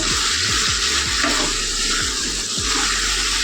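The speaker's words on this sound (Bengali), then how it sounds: "হলুদ আর লবণ দিয়ে এখন শুধু কষাবো। নাড়তে থাকুন, নাড়তে দেখবে কষানো হয়ে যাবে।" Potatoes sautéing in a pan with turmeric and salt for a Bengali aloo chochori, a loud continuous sizzle with repeated scraping stirs cutting through it, and no voices.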